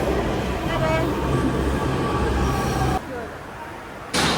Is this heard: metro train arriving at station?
yes